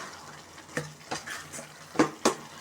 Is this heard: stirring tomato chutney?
yes